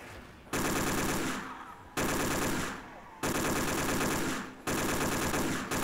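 MP40 submachine gun in a Call of Duty custom zombies map firing loud, close sustained bursts, four long strings of rapid automatic fire separated by brief pauses.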